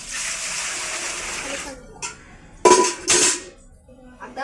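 Water poured and splashed into a steel pot while making dal, with a broad rushing gush up front, then brief pours and clinks of metal vessels, loud and close, and a voice speaking partway through.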